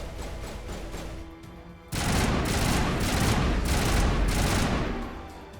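Assault rifle gunfire in Mass Effect 1. A loud, sustained burst of rapid automatic fire breaks in after a quieter stretch of game noise, runs for several seconds and then fades slightly.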